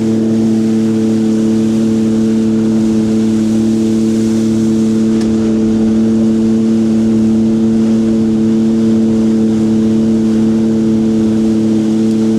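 Loud, steady drone of a Sea-Doo personal watercraft engine running at constant speed, close by, with no talking.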